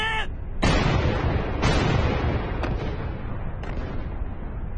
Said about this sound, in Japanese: 潜伏場所と思われる地点を対空砲で掃射しろ